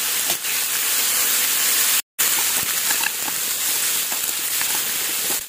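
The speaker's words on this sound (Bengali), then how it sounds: "তারপরে দিলাম হলুদ গুঁড়ো, জিরের গুঁড়ো আর নুন দিয়ে আবার একটুখানি ভাজা ভাজা করে নিচ্ছি।" Paneer fries in a pan with turmeric, cumin powder and salt, giving a dense steady hiss and sizzle close by, broken by one brief silent gap, with a few faint utensil knocks.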